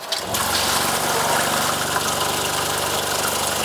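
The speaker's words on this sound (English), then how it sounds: "And now I'm going to run my cold side here." Antifreeze rushes steadily from the cold faucet of a 2024 Winnebago Sunstar Class A motorhome: a loud, continuous, close spray and gurgle that starts abruptly and holds constant throughout.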